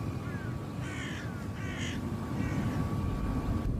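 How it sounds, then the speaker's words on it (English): Crows caw in fields beside a Russian airfield, several harsh calls in short bursts over a low, steady background rumble, fairly distant. "Birds, lethal to an engine if sucked inside, gather freely in the fields around the tarmac."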